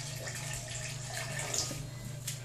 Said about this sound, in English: I add some of the water in which it cooked in, just some, and then I add some regular water to the mixture.